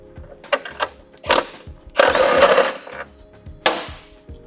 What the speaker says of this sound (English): Now I'm going to use a 19mm socket for the axle nut